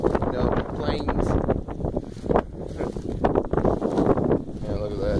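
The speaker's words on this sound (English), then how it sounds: "If you hear the wind, I'm sorry, it's a windy day here in Oklahoma" Gusty wind on the Oklahoma plains buffets the microphone with rumbling bursts while a person talks outdoors.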